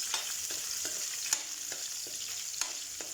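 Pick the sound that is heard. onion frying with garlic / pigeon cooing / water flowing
onion frying with garlic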